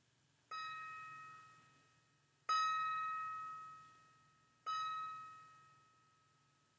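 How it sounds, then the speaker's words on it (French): Gong struck three times to close a meditation, each stroke a clear metallic ring that slowly fades, spaced about two seconds apart against quiet background. "Et vous profitez du tintement du gong pour mettre fin à cette méditation."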